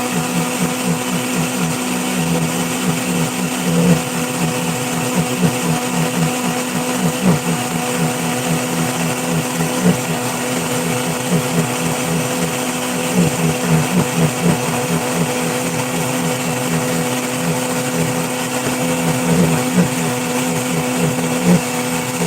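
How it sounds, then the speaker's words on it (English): A countertop blender whirs steadily as it purees ingredients with olive oil, a loud, continuous motor drone with slight wobbles in pitch that runs unbroken for over twenty seconds. "We're gonna blend it up"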